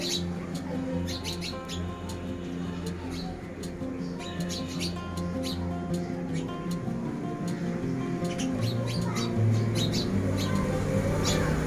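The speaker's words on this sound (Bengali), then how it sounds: "দোয়েল পাখি, ওরে আমার পাখি, এটা চড়ুই পাখি।" An oriental magpie robin and sparrows perched near a gulmohar tree give sharp, scattered chirps and squawks that repeat irregularly over a steady low hum of background noise, with possible faint voices.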